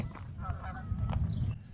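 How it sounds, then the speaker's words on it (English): Canada geese returning in early spring honk in a few rough calls while flying in, fairly faint and distant over a low rumbling background. "The first goose. The honkers are back."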